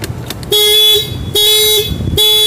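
A motorcycle's horn alarm sounds in repeated long steady beeps with short gaps, loud and close by, with a steady tone.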